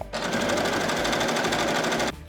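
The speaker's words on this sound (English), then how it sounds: "I started sewing the layers together, but this is going to take forever because I have a ton of petals here" A sewing machine stitches through layers of fabric rose petals in one continuous, fast, loud run of rapid needle clatter and motor whir, starting and stopping abruptly.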